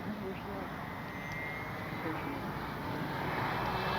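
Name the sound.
FMS PC-21 Pilatus RC plane flying at full speed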